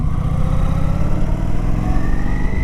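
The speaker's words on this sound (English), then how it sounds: "And then when I release, okay, throttling up" A 2012 Kawasaki motorcycle engine rises steadily in pitch as the rider throttles up during cornering practice, a loud, close, continuous drone with no talking over it.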